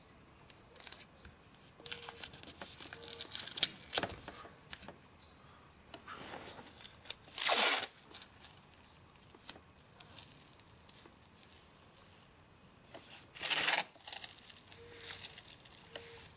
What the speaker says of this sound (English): we need to take our masking tape and start taping off the area